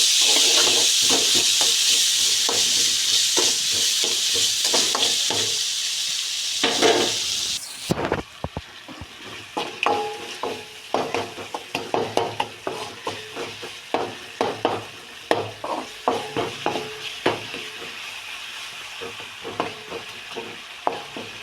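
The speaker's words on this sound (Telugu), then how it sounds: "నెక్స్ట్ వచ్చి కొంచెం పసుపు తర్వాత కొంచెం కలగట్టాలి" Turmeric stirred into ridge gourd, okra and eggplant frying in a pan: a steady loud sizzle at first, then a rhythmic series of close spatula scrapes and stirs over continued frying hiss.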